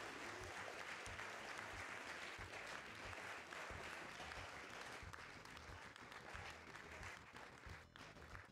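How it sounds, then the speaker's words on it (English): Sustained applause from a large crowd at a speedrunning marathon event, cheering the Diddy Kong Racing 100% racers; dense, steady clapping fills the room at an even level throughout, faintly distant and without clear speech over it. "if we can get one last massive round of applause for our racers"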